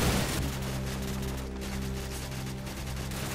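Sustained game gunfire in Call of Duty 4 as heavy enemy fire rains in, a dense, continuous loud rattle of shots with a low rumbling bed and no clear breaks.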